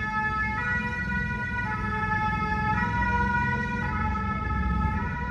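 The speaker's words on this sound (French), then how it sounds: "maintenant c'est la sirène." An emergency siren wails steadily in repeating tonal cycles over the low rumble of idling traffic, loud and close.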